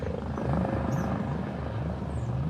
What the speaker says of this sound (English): I got a helicopter. God, maybe wait, but here's the helicopter